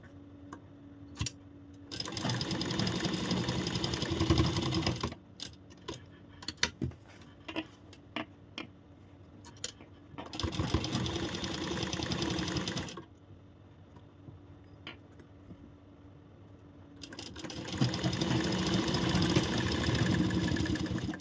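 An electric sewing machine stitches a corset blouse in three long steady runs, buzzing continuously with short quiet pauses between, close up and alone.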